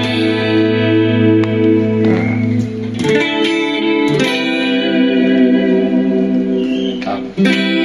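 Electric guitar played through a Korg AX3G multi-effects unit set with delay, sustained distorted chords and notes ringing with echoing repeats, loud and continuous, with no voice over it.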